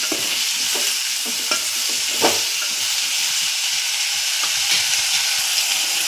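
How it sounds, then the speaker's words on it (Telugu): Drumstick, raw mango and tomato pieces with turmeric and salt cook in a pan, giving a loud, continuous close-up sizzle with steamy hiss and occasional soft stirring scrapes. "ఈ ముక్కలలో పసుపు ఉప్పు వేసి మగ్గబెడుతున్నానండి"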